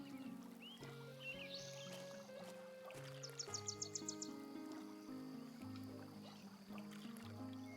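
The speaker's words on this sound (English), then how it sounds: "I swear I just heard a bird." Faint rapid bird chirps sound in the EverCraft Online game, a short run of quick high notes under layered game music and soft water ambience.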